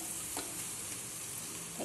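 Egg rice being stirred in a frying pan, a steady soft sizzle with a couple of faint scraping strokes of the spoon, close and continuous with no voices.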